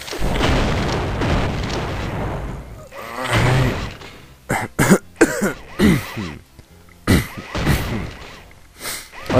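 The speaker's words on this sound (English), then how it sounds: "I apologize for all the coughing and such" A person coughing repeatedly in short, harsh bursts, mixed with throat clearing and snorts, close and loud over dense game sounds and explosions.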